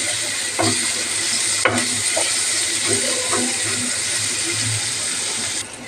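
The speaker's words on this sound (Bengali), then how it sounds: "এই দেখো একটুখানি হালকা ভেজে নেব" Spice paste for a chicken dish fries in a pan with a loud, continuous sizzling hiss, broken by a few soft stirring knocks.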